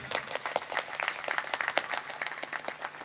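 Audience at a Hindu religious discourse on the Devi Bhagwat Katha breaks into steady clapping, a dense, fairly close round of applause sustained throughout with no voices over it.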